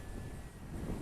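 Gusty wind buffets the microphone at a small radio-controlled model plane flying field, a low, rumbling, continuous roar with no voices over it.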